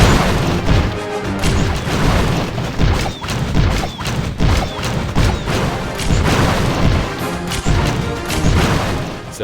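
Archer Queen skin attacks from Clash of Clans, a custom variant of her original attack sound, come as repeated loud booming, crashing hits in a dense rapid barrage.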